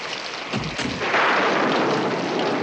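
Heavy rain pours steadily at night in a 1970s TV mystery scene, a broad continuous hiss that swells louder after a low rumbling thud near the start, with no talking.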